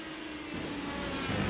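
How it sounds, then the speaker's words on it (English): Several IndyCar race cars running on the Monterey road course in an iRacing sim race, with a steady, fairly loud engine drone and whir that rises in pitch as a car accelerates near the end. "Twelve cars still out there running."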